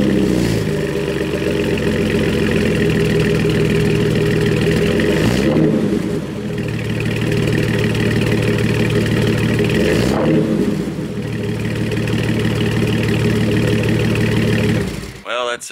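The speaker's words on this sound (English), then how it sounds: "this longer exhaust pipe has a deeper, throatier tone to it" Loud, deep 2004 Jeep Wrangler TJ engine idling steadily with a throaty rumble through a longer exhaust pipe, briefly dipping and recovering twice before cutting off at the end.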